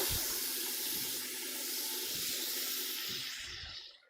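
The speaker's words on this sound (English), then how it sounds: "I'm going to take my tomatoes and I'm just going to pour them in." Tomatoes poured into a hot pan for a tomato stew set off a loud, steady sizzling hiss that holds for several seconds and then fades out quickly.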